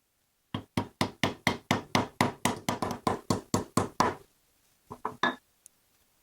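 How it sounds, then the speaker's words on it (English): 3D printed plastic end caps tapped into painted tubing for custom speaker mounts: a quick run of about fourteen evenly spaced light knocks, then a short pause and three or four more taps, close and crisp with no voices. "So we're just going to gently tap these in place."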